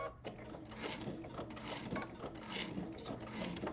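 A sewing machine stitches through several thick layers of cuddle fabric and Velcro with a faint, steady mechanical whirring and clicking that runs throughout.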